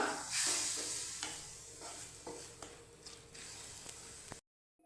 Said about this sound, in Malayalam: ഇതിലോട്ട് മിൽക്ക് ചേർത്ത് കൊടുക്കാം നല്ലോണം മിക്സ് ചെയ്യുക